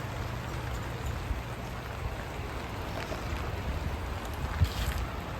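Steady rain falls on a waterlogged garden after two days of nonstop downpour, a soft even hiss with faint scattered drips and a low background rumble, fairly quiet and with no voices.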